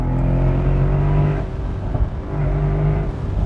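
A 2017 Mercedes-Benz SL63 AMG engine revs hard in two loud, close surges with a dip between, a dense throaty drone under no talk.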